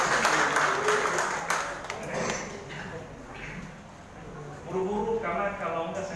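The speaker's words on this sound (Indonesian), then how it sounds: "Berikan tepuk tangan untuk YCC." A church congregation claps briefly for a testimony given by YCC, a short burst of applause at the start that quickly gives way to someone talking over a quieter room.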